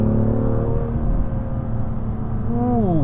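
A 2018 BMW M2 Black Shadow Edition engine roars close by, holding a steady growl before pitch climbs sharply as it revs and accelerates.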